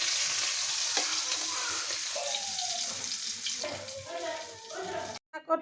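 Hilsa fish frying in a wok gives a steady close sizzle with some watery bubbling and faint stirring, softening toward the end before a short cutoff, with no speech.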